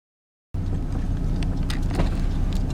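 Car cabin interior while driving, a steady low road and engine rumble cutting in suddenly after silence and continuing evenly, close and moderately loud, without speech.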